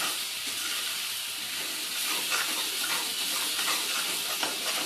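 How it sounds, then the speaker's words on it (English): Masala with kasuri methi stirred in a hot pan at home, giving a steady close sizzle and hiss with soft scraping strokes throughout, no voices. "Almost my masala is stirred, ready"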